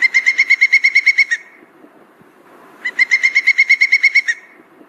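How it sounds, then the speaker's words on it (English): Pileated woodpecker piping in two bursts, each a quick, evenly spaced run of about a dozen loud, clear notes, split by a short pause with no other sound. "woodpecker, which is the largest woodpecker you'll see in your backyard, makes a series of piping calls"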